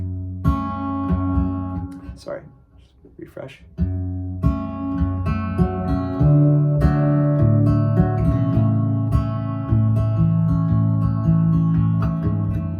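Guitar plays the verse of a song, with a few chords and brief spoken words at the start, then sustained ringing strums that settle into a steady rhythmic strumming pattern.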